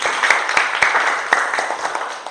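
A classroom of students applauds a classmate who has just sat down, a short burst of scattered hand claps with sharp individual slaps standing out over a brief rippling clatter, fairly close and moderately loud.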